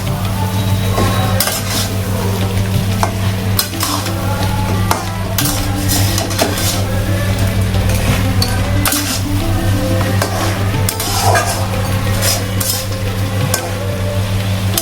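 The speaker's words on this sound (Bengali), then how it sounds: "এবার আমি কাঁটাটা দিয়ে দেবো এর মধ্যে, দিয়ে একটু ভালো করে নাড়াচাড়া করবো।" Bhetki fish bones are stirred into spice paste frying in oil, giving a continuous loud sizzle under repeated sharp scrapes and clinks of a spatula against the pan, with a steady low hum beneath and no talking.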